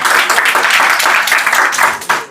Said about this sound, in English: Clap for Prabhuji.